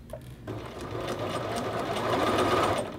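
A sewing machine stitches down and back-stitches a men's shirt collar, running as a steady close whir that builds after a brief start and holds for a few seconds with no talk.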